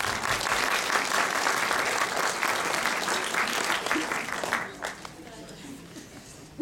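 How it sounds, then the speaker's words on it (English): Audience applause at a community leadership awards event, a lively roar of clapping that holds steady for several seconds and then fades quickly to near silence, with murmuring voices mixed in. "So please give yourselves a round of applause"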